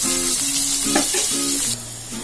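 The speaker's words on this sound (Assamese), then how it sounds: "মই এইখিনি ফ্ৰাই কৰি লওঁ" Eggplant and potato pieces fry in hot oil with a steady, close sizzle throughout, with occasional stirring clatter and bubbling; no one speaks.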